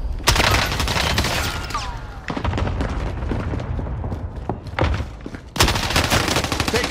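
Sustained automatic gunfire from Call of Duty Warzone, loud and dense bursts filling nearly the whole stretch with a brief lull mid-way before a fresh heavy volley near the end.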